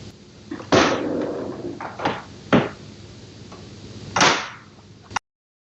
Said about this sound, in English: Close the ink access door.